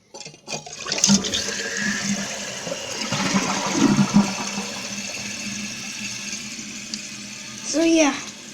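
Household toilet flushed up close, a loud rushing gush of water that drains and settles into a trickle of refilling, ending with a brief gurgle.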